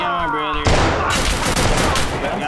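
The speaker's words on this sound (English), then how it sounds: "I have no idea what I'm getting shot from." Rapid gunfire rattles in a shooter video game, a dense fusillade of shots and bursts that starts abruptly and continues loud and close, with a voice faintly underneath.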